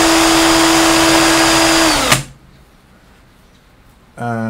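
A small spinning electric tool polishing an airbrush needle against a cloth with polishing cream, a steady loud whir that runs for about two seconds, then cuts off, falls quiet and starts up again.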